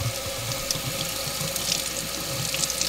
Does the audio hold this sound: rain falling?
no